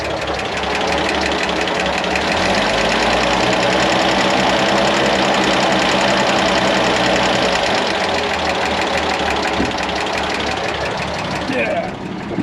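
A Bedford QL truck engine runs steadily at idle, loud and close, with a rough, throbbing knock that holds throughout and a brief clatter near the end.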